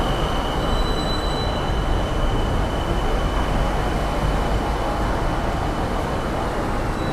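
A Bangkok skytrain rolls in at close range with a steady, loud rumble of wheels on rails, accompanied by faint high-pitched squealing throughout.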